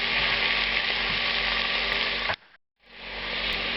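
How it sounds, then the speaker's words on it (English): Chopped celery with salt sizzles in a hot pan with a steady, close frying hiss that cuts out briefly, then returns as a softer sizzle. "that'll help break the celery down as it's being heated here"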